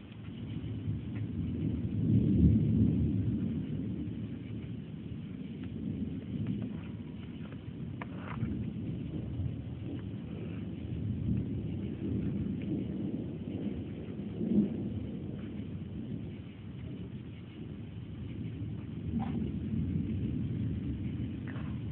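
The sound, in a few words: thunder during a summer storm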